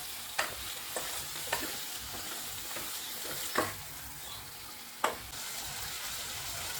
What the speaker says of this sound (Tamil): ப்ரானையும் இதோட சேர்த்து நல்லா மிக்ஸ் பண்ணி விட்டுக்குவோம்.